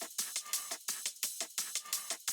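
A hi-hat loop from an electronic drum track plays by itself, crisp bright ticks and short open hits in a quick, steady syncopated pattern, close and clear.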